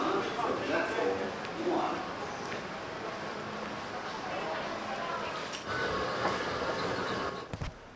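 Inside ADCB metro station in Dubai, a metro train rumbles and hisses along the platform with a steady mechanical roar and a few sharper clicks near the end, while people talk in the background.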